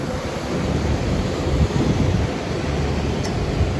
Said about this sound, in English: Magnificent waterfall outside.